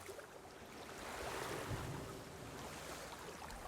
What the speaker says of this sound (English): I guess I'm just an old man listening to the sound of the sea